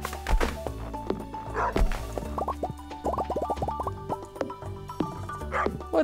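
Cartoonish dog barks in the Stardew Valley farming game, short yappy bursts scattered among plinking game music and sound effects, fairly close and moderately loud with no talking.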